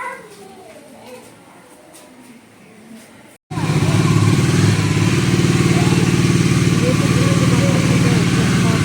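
A motorcycle engine runs steadily and loudly nearby after a quieter stretch with talk and household sounds, its continuous rumble starting abruptly and holding to the end, during cleaning for Vishwakarma Puja.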